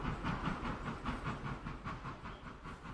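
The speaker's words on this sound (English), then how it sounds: "that steam engine has a romantic sound all its own" Steam locomotive engine with a rhythmic chuffing and hiss, repeating in steady even beats. It sounds somewhat distant and fairly quiet, with no voices.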